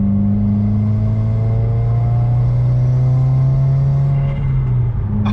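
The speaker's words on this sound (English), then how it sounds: "there's actually a small turbo flutter" A car engine drones steadily at a low pitch under load while driving, a faint small turbo flutter barely emerging near the end, loud and close from inside the vehicle.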